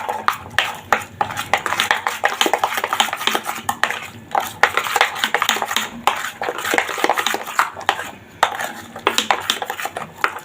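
A spoon works lentil paste mixed with salt, turmeric powder, garlic, ginger and green chili in a bowl, close, irregular clinks, taps and scrapes repeating rapidly with brief pauses.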